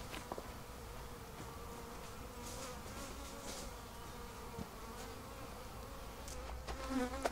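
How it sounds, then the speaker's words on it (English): Honeybees buzz close to the microphone near a truck, a faint, continuous droning hum with individual insects swelling and fading as they fly past. "I just can't get away from these bees."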